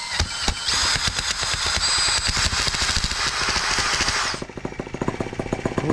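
A brand new TR1 tractor engine fires up and runs, giving a loud, rapid pounding rattle close by that continues steadily, then drops to a lighter, uneven chugging near the end.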